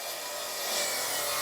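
A handsaw cutting a miter in a wooden shelf board, a brief, faint, close rasp of a single stroke with no voices.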